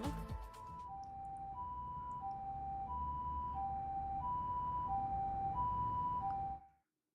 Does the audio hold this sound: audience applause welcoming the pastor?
no